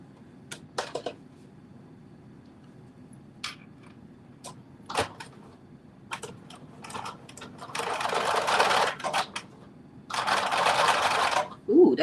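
A sewing machine stitching fabric, two sustained whirring runs late in the clip after scattered clicks and handling noises, with someone talking over the quieter parts.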